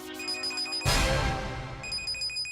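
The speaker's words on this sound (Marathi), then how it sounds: "फोन आलाय मला." A phone ringtone plays in a house scene of a Marathi TV serial, a repeating electronic tone that cuts off abruptly, followed by a loud burst and then a few more tone pulses.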